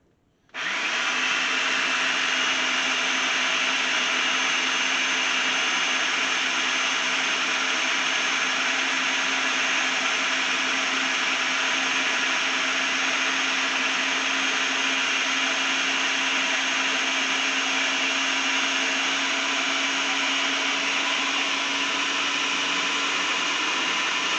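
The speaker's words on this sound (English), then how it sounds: "we're going to use this food processor and figure out how to use this food processor" A food processor whirs at full speed, blending cooked apples into apple sauce. It starts abruptly and holds a loud, steady, high-pitched motor drone for over twenty seconds, close by, with no talking.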